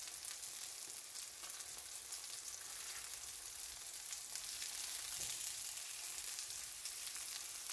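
Parmesan-crusted keto chicken frying in oil in a pan, a continuous dense crackling sizzle, close and fairly even throughout with no voices.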